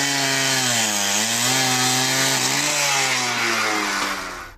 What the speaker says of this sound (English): we used other systems like the diamond saw with a different blade to cut timber